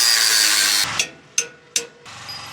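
A power tool cuts through a steel trailer spring hanger with a loud, continuous high grinding whine that stops abruptly, followed by three short sharp bursts as the tool briefly re-engages, then resumes cutting; no talk.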